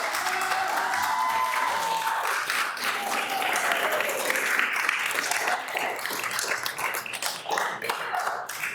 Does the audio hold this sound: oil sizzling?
no